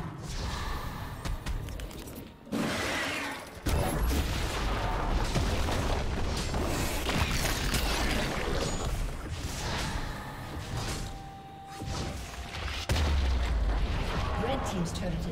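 Heavy booming blasts and crashes as a turret is destroyed in League of Legends, loud impacts rising out of busy game effects across the whole stretch.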